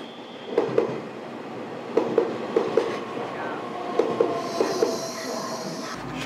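A passenger train runs along a line in Taiwan, heard from inside with a steady rolling rumble and paired rhythmic clacks of the wheels over rail joints, the clatter repeating several times at close range.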